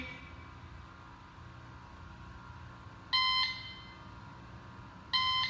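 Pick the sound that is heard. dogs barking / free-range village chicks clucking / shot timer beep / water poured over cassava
shot timer beep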